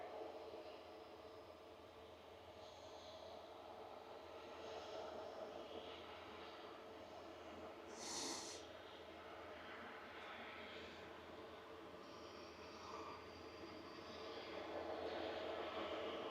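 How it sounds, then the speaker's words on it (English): A Turkish Airlines Airbus A330 with CF6 engines pushing back at Manchester Airport, a low, faint engine hum and airport rumble running steadily, with a brief hiss midway. "the Turkish A330 is pushing back, and I believe that is a CF6 powered aircraft"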